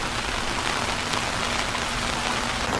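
Heavy rain pours without pause at a house under repair, a dense, loud, even hiss of drops hitting surfaces that fills the whole clip with no voices.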